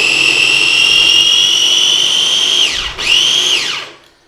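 A kitchen blender whirs loudly and close while it finely chops a medium onion, holding a high, steady whine before the motor briefly dips, revs again and spins down to a stop.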